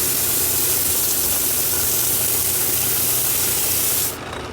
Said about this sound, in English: And we start sanding, moving it out.